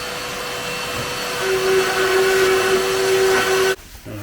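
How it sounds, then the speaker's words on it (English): A heavy-duty router plunge-cuts holes through an MFT template while a dust extractor roars, a loud steady whine with a rising tone, then it cuts off abruptly near the end. "The holes are being cut with a heavy-duty router and a plunge cut bit"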